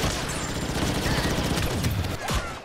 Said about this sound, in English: Oh, he got the early shot on me.